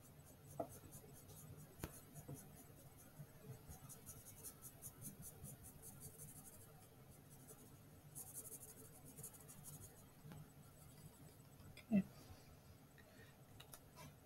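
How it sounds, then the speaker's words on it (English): Blue colored pencil shading in a box on a math worksheet, faint scratchy rubbing strokes with soft taps, close but quiet, and no talk over it. "the 10 by 10, use your blue color pencil, and we're going to shade that in."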